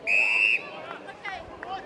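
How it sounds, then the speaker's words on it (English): An umpire at a country Australian football semi-final blows one sharp, shrill whistle blast of about half a second. A commentator's voice and faint crowd noise run underneath and continue after it. "There he blows his whistle."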